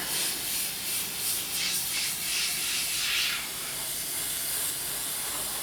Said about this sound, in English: Now I'm going to spray onto the paper with the paint and see how fine a line we can get with this airbrush.